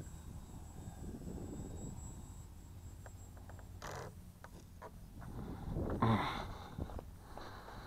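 A Parkzone Archer II RC airplane flies at a distance as a steady, moderate motor drone over outdoor wind rumble, with a slightly louder swell near the end and no talking.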